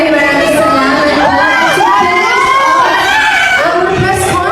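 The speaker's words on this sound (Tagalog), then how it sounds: "Natatawa naman si Andres Mulak nang marinig niyang sigawan sa mga babae sa gilid ng stage" A crowd of women shrieks and cheers beside the stage at a celebrity press conference, a loud, continuous wash of high-pitched yells and whoops with no gaps.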